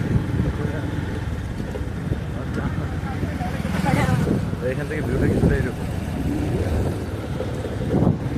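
Wind rushes steadily across the microphone outdoors at Joynal Abedin Park, Mymensingh, while a person talks over it, with the gusts swelling at moments.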